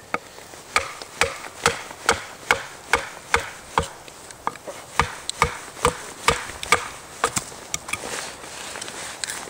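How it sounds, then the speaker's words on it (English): Gerber Backpaxe hatchet batoning firewood, a steady series of sharp, close wooden knocks, about two per second, each followed by a brief woody ring, heard alone outdoors. "I'm going to use this to actually baton with for my firewood."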